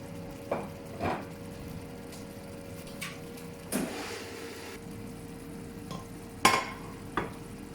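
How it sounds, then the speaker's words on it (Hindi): Capsicum and onion fry lightly in a pan, with a faint background sizzle and intermittent scraping stirs and clatters of a spatula, close and sparse. "साथ ही मैं अपनी इन सब्जियों को, जैसे कि शिमला मिर्च और प्याज, इनको मैं हल्का सा फ्राई कर लूँगी"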